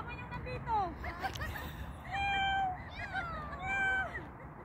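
Cat meowing outdoors near a garlic field, several drawn-out, tonal meows rising and falling across the clip, moderately close, with people talking in the background and faint rustling ambience.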